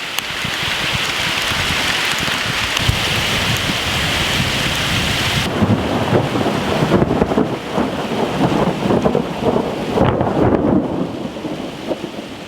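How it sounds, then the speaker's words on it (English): Hailstorm with heavy rain drumming hard on a shed roof and ground, a dense, loud, steady roar that turns rougher and more clattering partway through, with no voices. "It's a hailstorm,"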